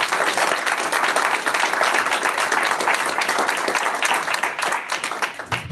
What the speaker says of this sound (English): I will say we can applause, but there is a time limit between each person.